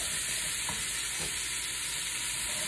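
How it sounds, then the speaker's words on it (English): Onions cook in olive oil in a pan while browned bits are scraped from the bottom, a constant soft sizzle with a couple of faint scraping strokes, quiet and close. "Notice I'm scraping up all of those bits"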